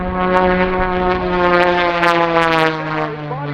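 A propeller aerobatic airplane at the Rochester International Airshow drones overhead with a steady, strongly tonal engine hum that slowly shifts pitch as it climbs over the top, loud and continuous with no speech.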